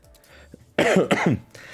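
A few harsh coughs in quick succession, close and loud, after a brief quiet lead-in.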